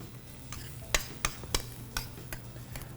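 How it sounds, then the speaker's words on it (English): Rice fries in a pan for a lowcountry kedgeree, a quiet sizzle broken by repeated light spatula scrapes and taps roughly every third of a second. "fry the rice in the pan and get it nice and crispy"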